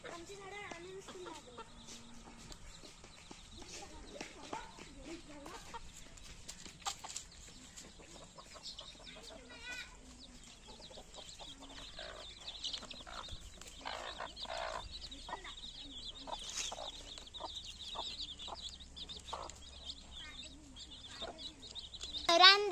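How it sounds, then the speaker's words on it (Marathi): Chickens and a rooster cluck and call on a rural farm walk, scattered faint bursts of fowl sounds near and far, with people talking quietly throughout. "तर आता आपण चाललोय कोंबड्या बघा. कोंबडा."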